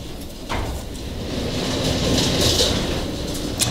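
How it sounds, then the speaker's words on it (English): Strong wind roars and buffets during a desert sandstorm outside a Lowe's store, a dense, continuous rushing with gusts that swell midway, close and loud with no talking. "Sorry for the wind noise. We have a sandstorm going on here in the desert currently"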